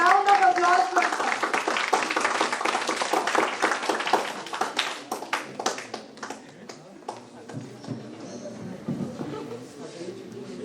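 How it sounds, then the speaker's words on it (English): An audience at a National Pollution Control Day event applauds a speaker, dense clapping that thins and fades after several seconds as talk and room noise take over. "let's have a round of applause for sir."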